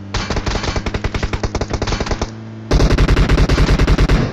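Automatic gunfire in a shooting video game rattles out in two loud, rapid bursts of evenly spaced shots, separated by a brief pause, close and dominant with no speech.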